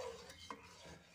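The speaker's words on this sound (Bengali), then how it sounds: "তো এই সময় একটু অনবরত নাড়াচাড়া করতে হবে" Rice for Bengali payesh is stirred in a pot of milk, a brief, faint scrape of a spoon against metal over a soft simmering hiss.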